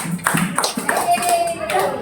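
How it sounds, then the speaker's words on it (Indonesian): Classroom applause for a student, a short burst of hand clapping heard up close, mixed with children's voices chattering. "Tepuk tangan untuk Pais."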